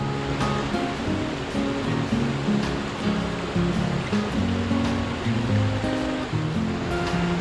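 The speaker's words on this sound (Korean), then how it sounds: "계곡의 물소리가 몸을 재촉하는군요." Steady rushing water from a mountain valley stream near a village in Gurye, South Korea, a day after rain, flowing continuously and fairly close, with faint music-like tones mixed underneath.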